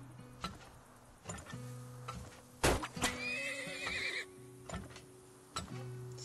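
A horse neighs in a video game, a loud shaky whinny in the middle of steady game tones, clicks and thumps, with no talking.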